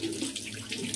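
Water runs steadily from a bathroom tap as it warms up, a close, constant hissing splash with no voices.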